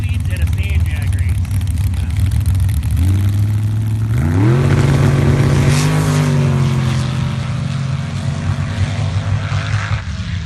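Drag race cars launch and roar down a sand drag strip at a sand drag race, loud engines rising in pitch after a few seconds and holding a high, sustained howl through the run.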